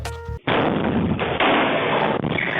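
A heavy explosion sound effect bursts in abruptly after a brief moment of low sound, then rumbles on loudly with a second booming surge partway through.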